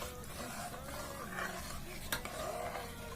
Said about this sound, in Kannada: ಸೇರಿಸಿದ್ದನ್ನು ಮಿಕ್ಸ್ ಮಾಡಿ